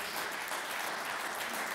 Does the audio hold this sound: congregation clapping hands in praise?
yes